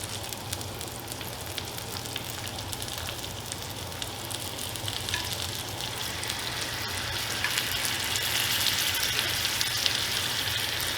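Redfish frying in a pan while being basted nonstop, a soft, steady sizzle and spatter that grows slightly louder toward the end, with no talking.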